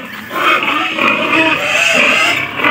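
A pig on a small farm raising ducks and native chickens, grunting and squealing loudly and close by, a continuous rough vocal sound with no talk.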